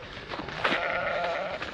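A single sheep on a farm gives one clear bleat at moderate distance, rising out of a low rustling background with no voices.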